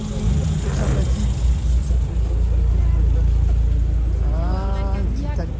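A Matra car pulling away at a classic car gathering in Versailles, its engine a loud steady rumble under close talk, with a rising rev near the end as it drives off.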